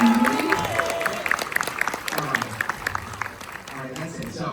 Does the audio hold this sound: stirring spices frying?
no